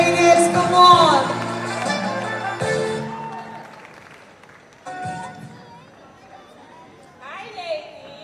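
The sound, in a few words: loud applause welcoming speaker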